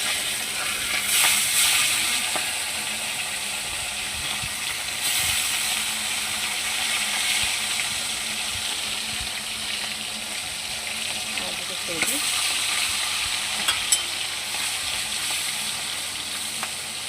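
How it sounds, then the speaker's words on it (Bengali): Small carp fry frying in hot oil give a steady, close sizzle that crackles on for the whole stretch, with a few light clinks of a utensil. "এই যে মাছ ভাজা বসাবো"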